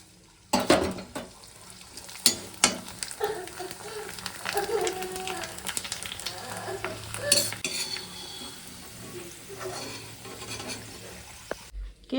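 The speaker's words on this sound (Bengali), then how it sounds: "পাপড় ভাজছি" Clattering utensils and scraping against a pan over a low sizzle of papad frying in oil, with sharp metallic knocks scattered irregularly throughout.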